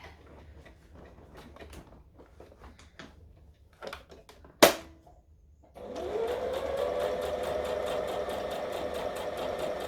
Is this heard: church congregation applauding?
no